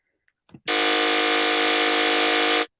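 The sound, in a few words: buzzer sound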